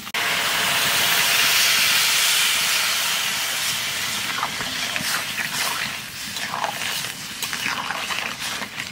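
Water poured into a hot pan of Sundarban crab curry sets off a loud, close burst of hissing steam that stays strong for a few seconds, then gradually softens into a gentler bubbling sizzle.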